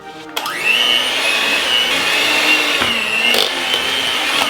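A motorized mixer whirs loudly while homemade garlic butter with chopped flat parsley is whipped, a steady high-pitched drone that starts abruptly and runs on with a brief dip partway through.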